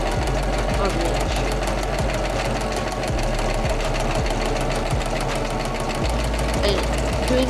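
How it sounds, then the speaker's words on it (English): A sewing machine runs a small straight stitch to attach white bias tape to a cuff, making a fast, steady mechanical rattle close by, with a voice talking over parts of it. "I'm going to sew on the white bias tape. I'm just doing a small small straight stitch"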